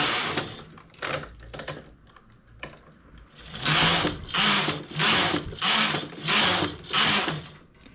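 A knitting machine carriage is pushed back and forth across the bed while knitting a double-faced coat collar, giving a few scattered clicks and then a regular series of loud, close, whooshing mechanical passes with ratcheting clatter.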